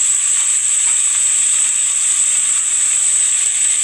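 Garlic fries in a hot pan for a radish-greens dish, giving a loud, steady, bright sizzling hiss that holds evenly throughout with no voices.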